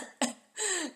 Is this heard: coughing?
yes